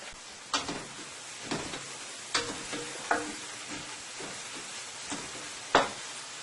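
Chunks of chicken and boiled provisions sautéing in a pan, with a steady sizzle punctuated by several sharp scrapes and clinks of a utensil against the pan, fairly close and without talk.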